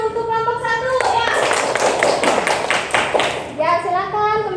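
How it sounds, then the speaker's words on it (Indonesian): Children in a primary-school class clap for a group that has just presented its work, a few seconds of lively rhythmic clapping between a teacher's speech before and after. "Kita beri tepuk tangan untuk kelompok 1"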